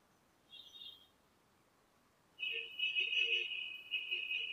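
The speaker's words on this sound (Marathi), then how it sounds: "दूरवरून येणारे पक्ष्यांचे आवाज" Birds call outdoors at a distance: a short faint chirp early on, then a longer sustained high whistling call with a lower accompanying note, moderately clear over quiet background hiss.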